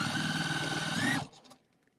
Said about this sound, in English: It means I need to sew faster.